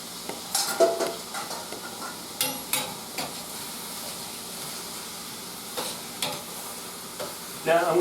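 Diced chicken sizzles in a pan with mirepoix while a utensil stirs, scraping and clinking in irregular bursts over a steady frying hiss.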